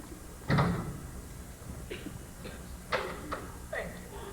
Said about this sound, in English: Lock the door and remove the key.